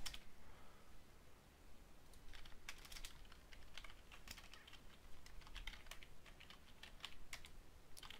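Fast typing on a computer keyboard comes through as bursts of close, light key clicks over a faint steady background hiss.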